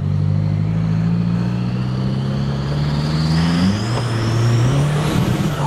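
A diesel car engine accelerating hard, a loud steady drone whose pitch climbs and shifts through a gear change partway, with rising whine above it throughout, close and alone without talk.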